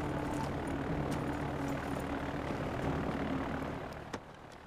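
Airplane engine roar from a plane preparing to take off in Far Cry 4, a steady broadband propeller drone that fills the scene at moderate level and thins slightly near the end, with no talk over it.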